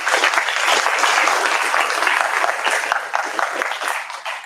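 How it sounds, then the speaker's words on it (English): Audience applause at a school community gathering honoring cross-country teams, a dense, steady wash of clapping that stays loud throughout before easing slightly near the end. "Let's give them a round of applause."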